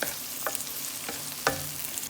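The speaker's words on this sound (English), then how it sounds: "Then I'm going to fry till this is also brown with the onion." Chopped onions and spring onions sizzle in a pan with a steady frying hiss, broken by a few scrapes and clinks of a stirring utensil.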